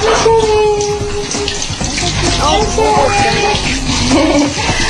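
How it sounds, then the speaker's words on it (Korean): A handheld shower sprays water as a mother rinses her young daughter in a home bathroom, a loud continuous splashing and hiss with brief voices mixed in. "여느 엄마들처럼 이렇게 샤워기를 이용해서 아이를 씻기시고 있었습니다."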